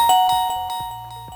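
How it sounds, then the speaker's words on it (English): A bright Reolink Video Doorbell PoE chime rings out clearly, a quick series of ringing electronic tones that fade away, with no voices. "you will hear a ring if you press the doorbell button"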